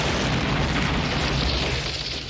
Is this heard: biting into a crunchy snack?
no